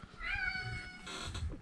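A cat gives one drawn-out meow, close and fairly faint, in a quiet indoor setting with no speech.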